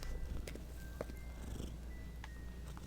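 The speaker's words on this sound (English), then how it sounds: "He's purring a lot." A sleeping cat purrs steadily in a quiet indoor space, a low continuous rumble, close to the microphone and fairly soft, with a few faint clicks over it.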